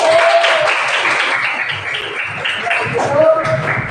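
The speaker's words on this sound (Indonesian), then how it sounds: "Oke, tepuk tangan" A classroom of students claps together, a short burst of dense applause mixed with voices and shuffling, fairly loud and close.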